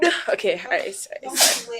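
A person sneezes once, sharply and close, following a few quick spoken words.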